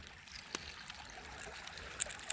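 A small feeder creek trickles over rock in the woods near the Salt River in Missouri, a faint, steady dribble with a few soft splashes close by, heard alone.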